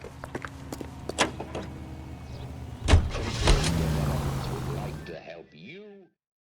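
Car driving in the L.A. Noire video game, with a steady engine drone and road rumble under scattered thumps, a door-like knock near the middle, then a short stretch of speech at the end.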